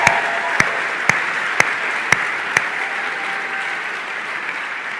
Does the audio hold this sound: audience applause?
yes